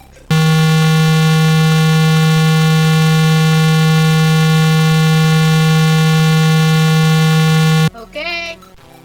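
A steady low computer beep tone from a Color BASIC SOUND command, the lowest pitch, holds loud and unbroken for several seconds before cutting off into brief speech.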